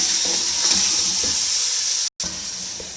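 Chicken frying in a pan for biryani gives a steady, loud sizzle with hiss and steam that runs almost without a break, cut off once by a short gap.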